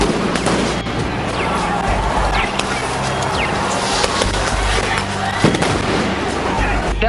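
Flashbang grenades burst amid police clashes at a night street protest during Occupy Oakland, sharp cracks and pops scattered through a dense, loud crowd din, with voices mixed in throughout.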